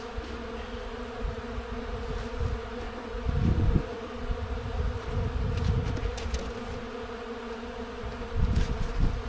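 Honey bees buzz around an open hive during an early-season inspection, a continuous close drone with louder swells as individual bees fly past. No voices are heard.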